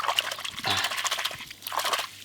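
Freshly caught mud crabs being washed with water in a village, close splashing and sloshing in uneven bursts with a short lull midway and no speech.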